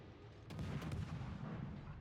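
Naval ship guns fire in a video game battle near an island, a muffled booming salvo with sharp cracks and a rolling rumble behind it, fairly faint and distant-sounding.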